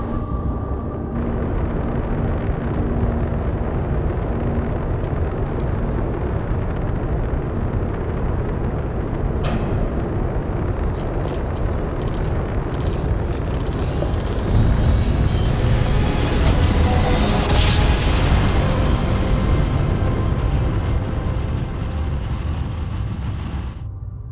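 Spaceship retro thrusters firing in the Starfield video game: a loud, sustained roaring rumble that holds steady, then swells into a brighter, harsher blast over the latter half, alone without voices.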